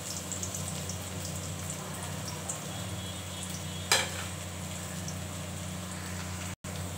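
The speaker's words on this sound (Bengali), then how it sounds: "একটু পেঁয়াজ দিয়ে দিচ্ছি, অল্প একটু লঙ্কা দিয়ে দিচ্ছি, একটু রসুন দিয়ে দিচ্ছি অল্প একটু।" Onion, chili and garlic fry in hot oil in a pan with a steady, close sizzle, broken once by a sharp clink of stirring.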